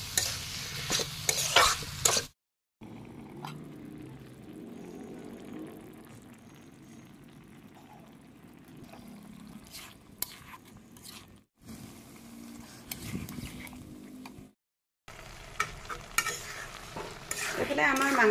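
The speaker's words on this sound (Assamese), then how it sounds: "চজিনাৰ ফুলখিনি এতিয়া খুব ধুনীয়াকৈ এইখিনি লৰাই ভাজি ল'ম।" Drumstick flowers and tomatoes stir-fried in a pan, soft sizzling with scraping spatula strokes in irregular bursts, broken by brief silent cuts.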